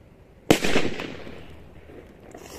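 A 50 mg Cobra P1 firecracker goes off outdoors with one sharp, loud bang, followed by a brief rumbling echo that fades away over about two seconds.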